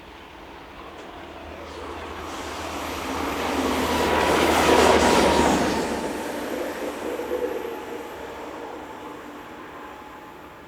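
A pickup freight train runs along the Swiss main line between Olten and Oensingen near Wangen bei Olten, its rumble building to a loud peak as it passes close, then fading with steady wagon noise.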